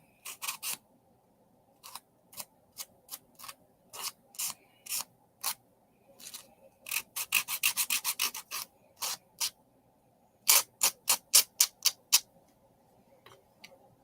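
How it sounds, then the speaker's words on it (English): Scratchy sanding strokes on a small scarecrow craft piece, short rasping bursts in uneven rhythm, close by, with brief pauses and a quick run of rapid strokes. "And then I'm just sanding it down so if there's nothing like sharp"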